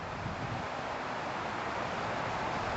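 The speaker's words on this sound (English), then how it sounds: "this wind out here is gushing, I don't know what, 20, 30, 40 miles an hour" Strong wind gusting outdoors beside a leaning old pine tree, a steady dense broadband rush with no distinct gust peaks, close and constant, with no voices.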